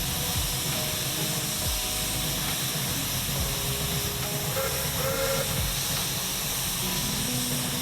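Steam from the stoker jets of a locomotive in a train video game hisses continuously and loudly, with a broad steady rush over low mechanical chugging and occasional whistle-like tones.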